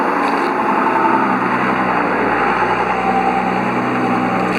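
A vehicle rumbles loudly and continuously close by, its engine noise steady throughout as it passes, with no voices.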